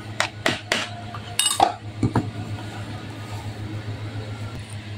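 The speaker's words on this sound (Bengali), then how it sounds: "এখন খুব ভালো করে মিশিয়ে নিব" A spoon clinks and clatters against a bowl while mixing a batter of milk powder and baking powder, with a burst of quick knocks at first, then a low steady hum.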